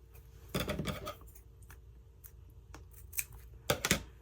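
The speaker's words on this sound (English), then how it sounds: "So I'm going to cut that right there." Scissors snipping paper while making double-facing envelopes, two quick crisp cutting bursts at close range with small handling sounds between them in a quiet room.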